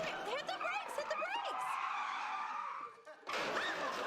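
A car in a TV show brakes and skids, a sustained tire squeal lasting a couple of seconds, mixed with voices and laughter before it and a burst of noise after a brief drop.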